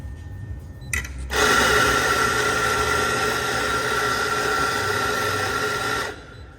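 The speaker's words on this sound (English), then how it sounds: "Not the prettiest sounding grinder for sure." A Fiorenzato espresso grinder grinding coffee, a loud harsh motor whine that starts abruptly and runs steadily for about five seconds, then cuts off, close up with no talk.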